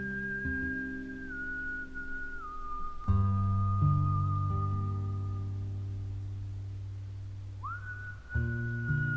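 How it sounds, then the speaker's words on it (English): Whistled melody in video game background music, sustained clear tones that glide between pitches over a steady low synth backing, with a brief break before the tune resumes. "Wait, does the background music now have whistling?"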